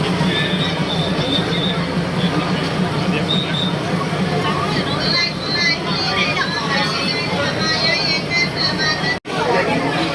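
A train rolls slowly through Maeklong market in Samut Songkhram amid crowd chatter, wheels squealing with high screeches over a low steady rumble.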